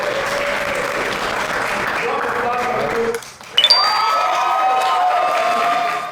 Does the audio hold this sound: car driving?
no